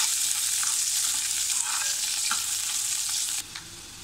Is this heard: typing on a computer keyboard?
no